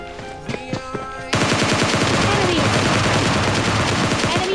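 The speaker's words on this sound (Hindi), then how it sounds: "ये शॉटगन चला रहा है मेरे पे" Shotgun fire in PUBG Mobile Lite: a few sharp shots, then a dense, loud burst of rapid gunfire that carries on to the end.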